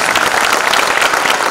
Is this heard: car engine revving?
no